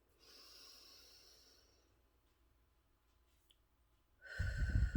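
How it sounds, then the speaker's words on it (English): A soft, drawn-out inhale through the nose, a quiet pause, then a louder, rougher rush of breath at the end. "let's count to 4 when we take that deep breath"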